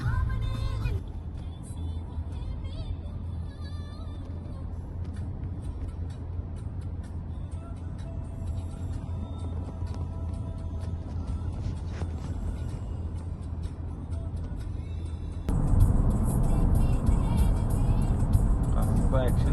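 A car driving on the road from Satara toward Prati Balaji in intermittent rain gives a steady low cabin rumble that grows louder and brighter near the end.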